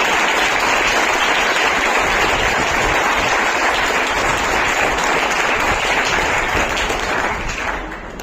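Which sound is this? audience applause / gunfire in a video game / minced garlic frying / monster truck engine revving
audience applause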